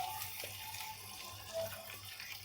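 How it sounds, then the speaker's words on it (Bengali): Tap water runs steadily while a yogurt bowl is rinsed in a kitchen, a soft, even splashing flow heard faintly and alone for a couple of seconds. "দইয়ের বাটি ধুয়ে দিয়ে দেব"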